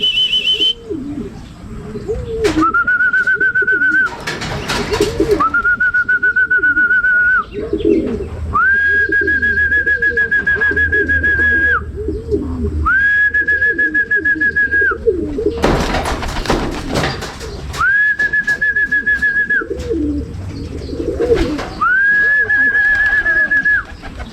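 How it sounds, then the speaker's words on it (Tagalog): Pigeons coo close by in repeated throaty phrases of a few seconds each, while rustling, wing flutters and sharper bursts sound in between. "Yun mga kalapatids, dalawang itim, makulit."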